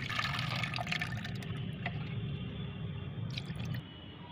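An aloe vera leaf rinsed under running water, a steady close wash with drips and splashes that stop abruptly near the end.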